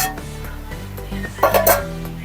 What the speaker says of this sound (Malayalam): അതൊന്ന് അടപ്പുറന്ന് നോക്കാം